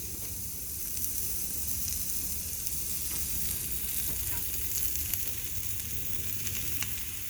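Potatoes fry in oil on a Blackstone 36 Pro griddle, giving a steady bright sizzle and hiss with occasional small pops, heard close and alone.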